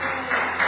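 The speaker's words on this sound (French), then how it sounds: "Oui, vous pouvez vous applaudir." A church congregation applauds briefly, a dense wash of clapping lasting under a second.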